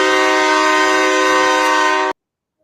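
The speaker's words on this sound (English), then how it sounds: "It's a train." A train horn blows one loud, steady, sustained blast that cuts off abruptly and leaves silence.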